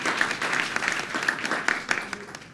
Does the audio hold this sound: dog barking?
no